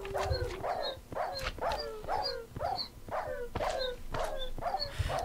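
Minecraft dogs barking, a steady run of about ten short yipping barks at an even pace, moderately loud and alone.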